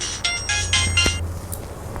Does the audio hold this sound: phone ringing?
yes